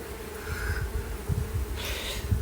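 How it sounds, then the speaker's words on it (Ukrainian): A low, steady buzz of honeybees at a hive hums throughout, with a few louder swells, close by and without voices. "Сюди проходять бджоли"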